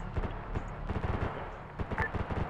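Incoming gunfire with indirect fire: a rapid string of sharp shots and bursts cracking close by over a rumbling background, with no talking.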